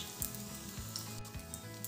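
Puffed rice cutlets shallow-fry in a pan over medium heat, letting one side crisp to golden brown. A steady close sizzle hisses throughout, with a few soft low knocks.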